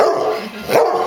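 A short, loud puppy bark close by, two quick yelping bursts within about a second.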